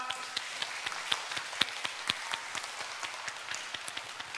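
Faint, steady clapping from a church youth summer worship congregation, an even patter of claps with a few sharper ones standing out, continuing for several seconds.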